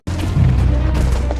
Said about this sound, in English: Explosions rock the city.